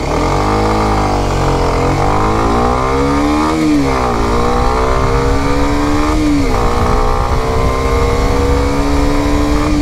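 A Kawasaki Ninja 125 motorcycle accelerates in traffic, its small engine's buzzing note rising in pitch through successive gear changes, with steady road and wind roar close by throughout.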